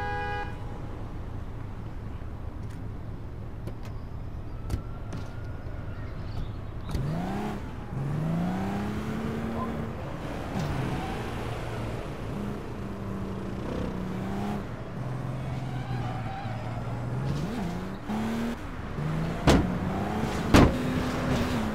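A car driven in the APB Reloaded game, with a steady engine drone that rises and falls as it revs and shifts, plus occasional horn toots and a few sharp knocks near the end.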